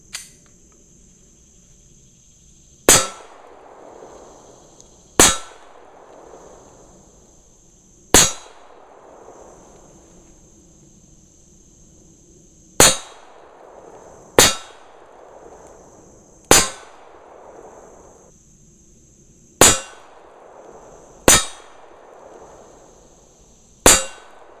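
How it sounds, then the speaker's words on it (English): Cheap 121-grain lead 9mm reloads fired from a pistol into a homemade bullet trap in a basement: about ten sharp, loud shots at irregular spacing, each followed by a brief ringing decay, with a steady high tone underneath. "What we're going to be shooting is very cheap reload ammunition that I found in my basement. This is 121 grain, standard lead,"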